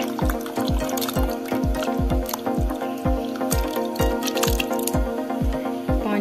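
Water drips and splashes repeatedly into a pot as soaked plums for a sweet chutney are poured in with their soaking water, a regular run of close, wet plops over a steady liquid background, with no talking.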